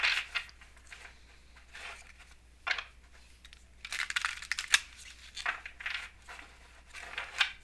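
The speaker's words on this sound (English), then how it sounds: "So I'm just going to give them a quick shuffle." Tarot cards shuffled sideways by hand, soft papery swishes and crinkly bursts coming in irregular clusters, close and quiet with no talking.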